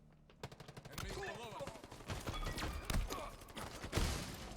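Rapid gunfire from the video game Halo during a capture-the-flag match, with bursts of shots and explosions crackling in dense succession under players' voices talking over one another.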